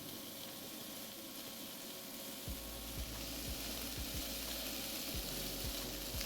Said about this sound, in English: because it's already sizzling.